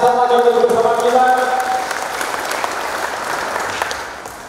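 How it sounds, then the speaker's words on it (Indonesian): Applause from the crowd at a NasDem party installation ceremony in Blitar regency, steady clapping that starts over a brief tonal sound and fades gradually toward the end. "Tepuk tangan bersama bersama kita."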